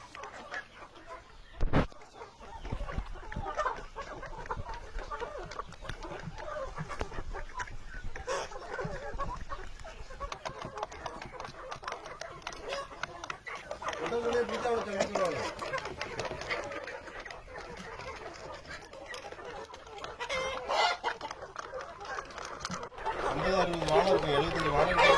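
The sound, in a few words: clucking native Peruvidai country chickens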